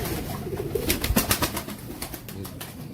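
Pigeons in a loft, an Amritsari hen beside a Teddy cock, give soft murmuring coos close by, punctuated by a flurry of sharp flapping or scuffling bursts midway.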